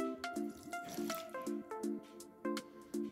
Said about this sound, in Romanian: Vom pune și esență de vanilie.